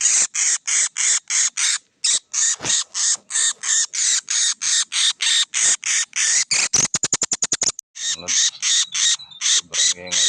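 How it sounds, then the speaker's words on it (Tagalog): A captured wild bird, known locally in the Philippines as pusi, squawks loudly in a rapid, relentless series of harsh calls. Near the end the calls break into a quick rattling burst, then the steady squawking resumes. "Sobrang ingay yung nahuli natin na ibon na pusi."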